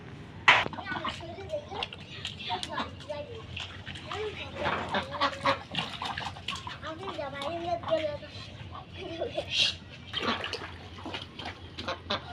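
Ducks honk and quack at close range near a water pool, the birds startled by a person standing nearby, with a voice talking over the calls throughout.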